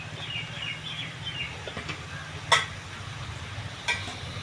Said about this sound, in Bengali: এখানে দেখো মশলাটা কষাই হচ্ছে